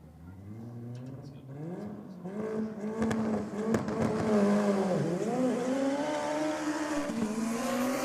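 A diesel drag race car roars down the strip on a pass at night, its engine note rising through the gears with clear shifts, loud and sustained with a harsh, buzzy tone as it pulls away.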